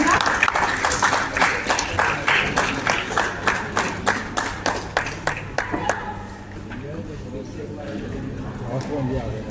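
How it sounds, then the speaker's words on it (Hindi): Loud rhythmic group clapping welcomes a Buddhist guest on stage at a vegetarian awareness event, steady beats for about six seconds before fading into softer crowd murmur. "भट्टे जी प्लीज जोरदार तालियों से आप स्वागत करेंगे।"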